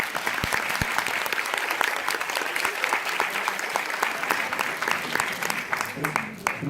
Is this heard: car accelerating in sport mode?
no